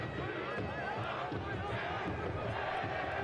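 Huge soccer crowd at Keyworth Stadium for Detroit City FC against Oakland Roots SC, a dense, steady roar of cheering and chanting, with a commentator's voice over it.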